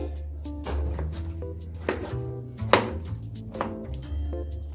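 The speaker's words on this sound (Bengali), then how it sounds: "এখন আমি একটা সুরি সাইজে চপিং করে নিয়েছি" Two eggplants being chopped with a knife on a board, a run of close, uneven blade strikes with a few sharper knocks and no talking.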